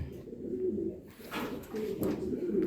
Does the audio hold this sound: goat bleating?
no